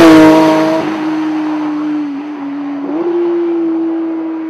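A Porsche 922 GT3 Touring drives on a road, its engine holding a steady, loud drone that dips slightly then rises, with no talk.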